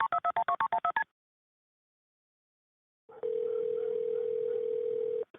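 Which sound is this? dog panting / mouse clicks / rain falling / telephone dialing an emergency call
telephone dialing an emergency call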